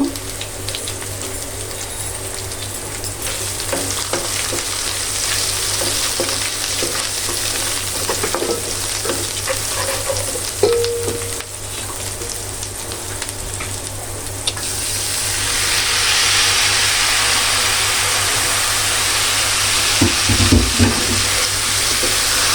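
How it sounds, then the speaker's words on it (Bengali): Ground spices, including chili powder, a little turmeric, coriander powder and Kashmiri red chili powder, sizzle and fry steadily in a pan while being stirred, with a brief burst of running tap water near the end. "মশলাটা তো কষাতে থাকবো"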